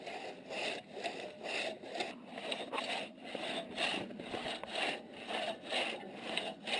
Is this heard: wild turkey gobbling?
no